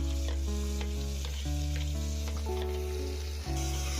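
Chopped tomatoes go into chicken masala frying with chilli powder in a pan, giving a close, steady sizzle with stirring under a constant low hum.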